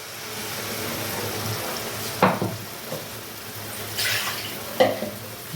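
Rinse water from a mixer jar is poured into sizzling gravy in a pan, giving a steady frying hiss broken by a few short splashy bursts.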